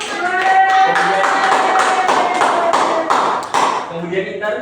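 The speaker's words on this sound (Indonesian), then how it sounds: "Ayo tepuk tangan dulu untuk yang sudah menjawab." A classroom of students claps together in a dense, steady burst of applause lasting several seconds, with a brief voice over it near the end.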